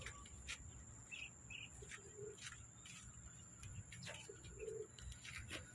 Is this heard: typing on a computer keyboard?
no